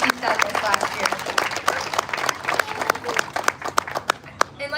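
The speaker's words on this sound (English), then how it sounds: "let's give her a huge round of applause" A crowd at a county fair crowning ceremony claps in sustained applause, sharp individual claps scattered through a continuous patter, with a voice speaking over it.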